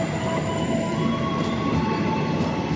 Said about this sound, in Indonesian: Kereta api Gaya Baru Malam Selatan.